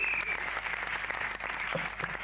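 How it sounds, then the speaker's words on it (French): A church congregation claps together through a 1995 worship service, a dense, steady patter of many hands that continues without pause and with no speech. "Applaudissons le Seigneur. Ne vous fatiguez pas. Applaudissez Dieu."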